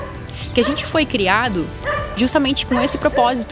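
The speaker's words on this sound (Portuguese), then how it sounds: "tem um cachorro agora latindo" A dog barks repeatedly in short, yelping bursts close by, overlapping continuous speech from a person talking throughout.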